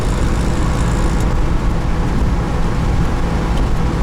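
Continuous loud engine and road drone from a Fiat 1100 R Wagon on the move, fitted with a Fiat 1200 transmission, a steady rumbling roar from inside the car.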